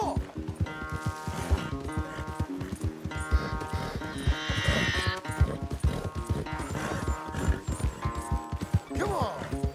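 A horse ridden at pace in Red Dead Redemption 2, rapid rhythmic hoofbeats clattering throughout with a snort or whinny partway through, while someone talks over it.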